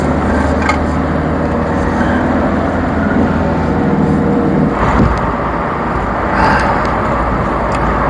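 Renault Laguna turbo engine pulling under hard acceleration from the cabin, a steady loud drone with road rumble throughout, no talk.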